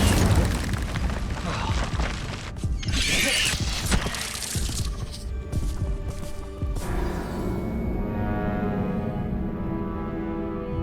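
Incendio fire spell bursting in Hogwarts Legacy, a loud roaring whoosh of flame with booming impacts and crackle, sustained and dense, overlaid with game music and effects.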